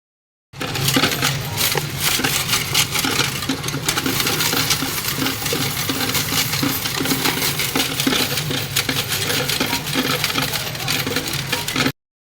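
Loose coins of assorted peso denominations clatter steadily into a BSP coin deposit machine, a dense, continuous metallic jingling and rattling that runs loud and close for about eleven seconds without pause.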